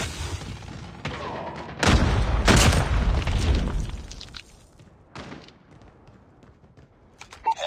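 Frag grenade bursting in Call of Duty: Mobile, a heavy, close boom with a rumbling tail amid scattered gunfire, followed by quieter battlefield sounds and a few sharp shots.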